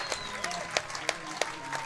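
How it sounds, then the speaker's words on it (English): Baseball crowd at a Regina Red Sox finals game cheering and applauding in a standing ovation, with steady clapping and sharp whistles or shouts over a continuous crowd roar. "And a big cheer, a standing ovation for the Regina kid."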